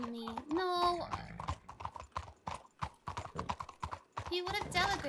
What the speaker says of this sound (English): Fine horse.